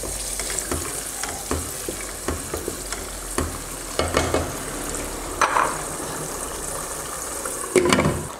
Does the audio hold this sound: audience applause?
no